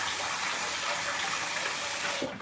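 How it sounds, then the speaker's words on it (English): Cold water running steadily from a tap, a continuous broadband gush that stays even throughout and cuts off at the very end. "I will add a bit of cold water"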